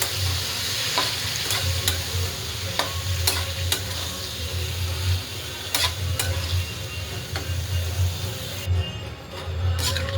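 Cauliflower curry being stirred in a hot pan, a steady sizzle of frying vegetables with scraping spoon strokes repeating throughout, close and alone with no talking.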